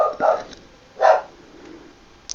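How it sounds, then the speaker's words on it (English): Dog barking indoors, two sharp barks about a second apart, fairly close and loud against a quiet room. "Sorry about the barking."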